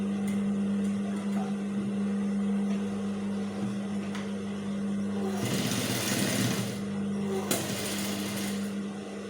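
A sewing machine stitches a senator placket with a steady mechanical hum and rapid needle rhythm, growing briefly louder and rougher near the end, heard close and without talk.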